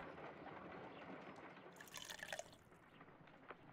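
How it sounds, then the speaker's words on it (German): Water poured into a mold in the game Crimes and Punishments, a soft continuous trickle and dribble with a few brighter splashy drips near the middle, faint and close. "Also erstmal das Wasser da rein."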